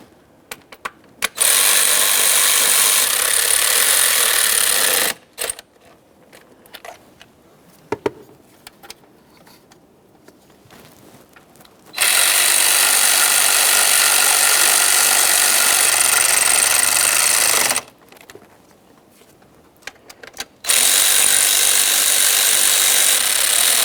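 Bolts on the ignition coils of a 2012-2018 Nissan Maxima 3.5L V6 being tightened with a tool, heard as three loud, sustained mechanical bursts separated by quieter pauses, with no talking.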